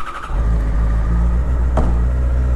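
A Yamaha FZ6 motorcycle engine rumbles steadily and loudly as the rider sets off, with a low, constant drone and a brief higher rev in the middle.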